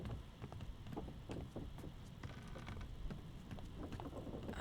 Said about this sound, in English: We still hear the rain.